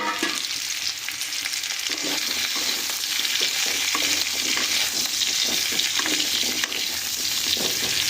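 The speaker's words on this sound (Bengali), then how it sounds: "মোলোটাও দিয়ে খুব ভালো করে ভাজা করে নিচ্ছি" Radish sizzles steadily in hot oil as it is stirred around a pan for a puti fish sour dish with kochumukhi, with scraping strokes over a continuous close, loud frying hiss.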